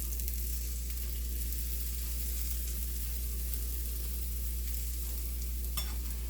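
A gram flour pancake fries in oil on a pan over low heat, its constant close sizzle running unbroken over a faint low hum, with no talking.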